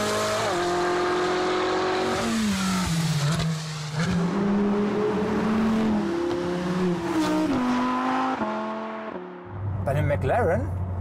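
A 620 hp McLaren GT engine drones and shifts through rising and falling tones, changing pitch as it accelerates through gears, loud and close, with a voice talking over it.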